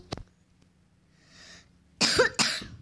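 A single sharp cough, then a quiet pause with faint hiss, followed by two louder, raspy coughs close to the listener.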